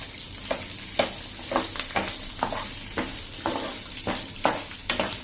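Lentils fry with chopped green chilies in a pan, a steady sizzle broken by regular scraping strokes of a spatula roughly every half second, close and fairly loud.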